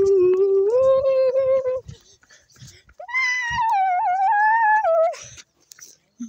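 Two long, wavering wailing tones from Sirenhead in a video game, the second higher and harsher, like a drawn-out siren howl, loud and close with a pause between.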